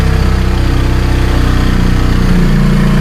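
Close, loud motorcycle engine idling with the choke on through a newly fitted exhaust, giving a fast, even, steady pulsing thrum with no talk.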